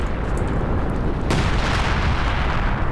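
Heavy artillery fire from an enemy British base in Company of Heroes 2, a dense, loud roar of booming shells with a sharp blast near the middle, sustained throughout.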